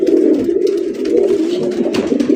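Several Rajgolla pigeons coo continuously at close range in a loft, overlapping soft throaty calls with no talking.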